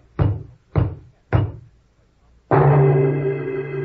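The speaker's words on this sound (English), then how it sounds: "There was a knock on the door." Three sharp, evenly spaced knocks on a door in a radio drama, loud and close, followed after a pause by a sustained tonal sound effect.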